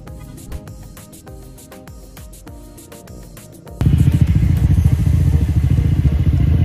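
A big motorcycle rolls past other riders near a bridge, first a clattering, uneven rumble, then a sudden jump to a loud, dense engine roar that holds steady up close.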